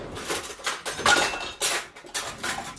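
Metal spoon clinking and scraping against dishes while fetching it to scoop cookie dough, several quick irregular rattles and taps close by, moderately quiet.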